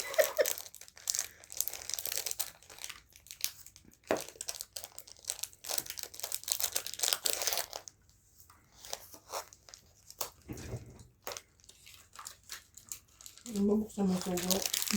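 A plastic package being torn open and crinkled at a card table during a tongits game, brief crumpling and tearing bursts scattered through the clip with people talking throughout.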